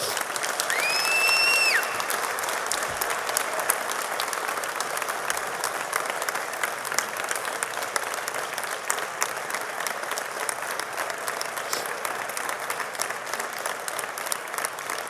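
Sustained applause from a large audience at a hotel school diploma ceremony, honouring the graduates' parents, steady and dense throughout with a few faint whistles near the start.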